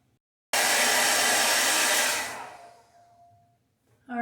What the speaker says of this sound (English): I'm going to blow dry these just a tiny bit more until they're completely dry